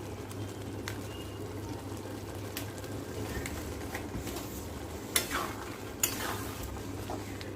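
Chicken bharta mixed with egg and garam masala powder being stirred in a pan, a soft low sizzle under gentle scraping and two brief metallic taps of the spoon, fairly quiet and close, no voices.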